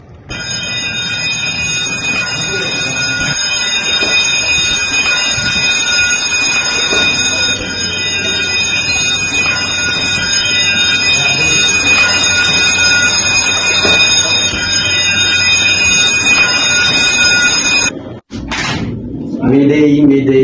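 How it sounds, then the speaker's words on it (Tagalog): A ship's general alarm sounds aboard a vessel whose engine room is flooding, a loud continuous electronic ringing tone held steadily for about eighteen seconds before cutting off abruptly, followed by a brief noisy shuffle. "Sound the general alarm."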